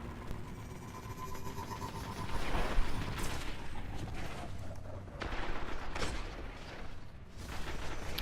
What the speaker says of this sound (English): you can see how large the explosions are, and they shoot out of either side of the vehicle